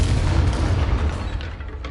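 A Confringo spell blast in the Hogwarts Legacy video game: a dense, roaring burst of booming noise that fills the whole two seconds at steady loudness and tapers slightly at the end, with no talk.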